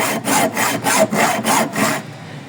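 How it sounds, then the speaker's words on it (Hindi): A hand saw cuts through a rusty bolt on the rear bumper of a 1989 Toyota Crown: six rhythmic back-and-forth strokes of gritty rasping, close and loud, then the sawing stops. "ये रस्टी है, खुल नहीं रहा। तो इसको जो है ना, मैंने सोचा कि फिर आरी से काट लिया जाए।"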